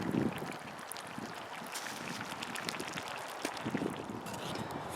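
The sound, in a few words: wind blowing outdoors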